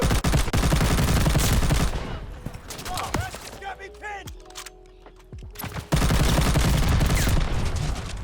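Rapid automatic fire from a full-auto G43 rifle in Call of Duty: Vanguard rattles loud and close, pauses midway amid scattered clicks and a short voice, then resumes in a sustained burst.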